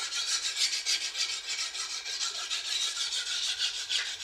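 A Japanese knife is drawn back and forth over a whetstone, giving a steady rasping scrape with a regular stroke rhythm. It stays close and moderately loud, with no talking.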